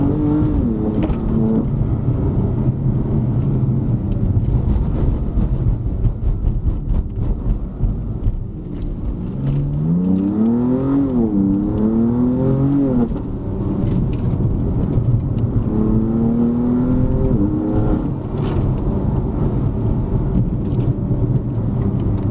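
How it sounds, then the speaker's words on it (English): A BMW M4 accelerates hard in third gear with wheel spin on a Genting test drive, its engine roar climbing in pitch in surging sweeps over a loud, constant road rumble. "Wheel spin in third gear."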